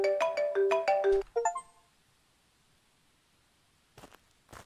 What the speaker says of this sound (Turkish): telefonu sessiz al dostum